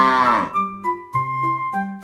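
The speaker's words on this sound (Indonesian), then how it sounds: "Sapi." A cow moos in several drawn-out, tonal calls. A long opening low at the start is followed by three shorter moos, each rising and holding, heard close and clear with no talking.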